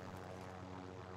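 Helicopter in the Call of Duty Warzone video game, a steady droning engine and rotor hum with strong low tonal bands, continuous and fairly loud through the short moment, no voices.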